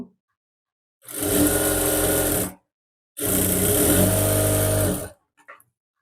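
A sewing machine stitches blouse lining and fabric together in two steady whirring runs of about a second and a half and two seconds each, close and loud, with a short pause between and a faint click afterward.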